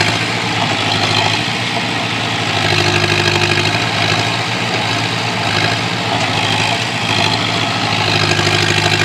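A tractor engine idles with a steady low mechanical hum and constant drone throughout, no voices present.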